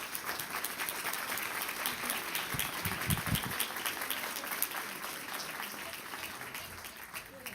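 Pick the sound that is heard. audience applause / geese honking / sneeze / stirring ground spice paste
audience applause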